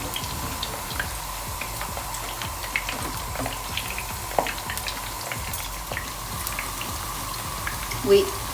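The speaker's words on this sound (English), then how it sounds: "because we need the space to have them frying." Eggplant frying in a pan, a steady crackling sizzle with scattered pops, close and continuous, with faint speech underneath.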